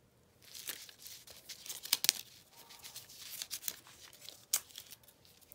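A sticky dot is peeled off a baby bottle, giving close, crisp tearing and crinkling with a few sharp rips scattered through a soft rustle.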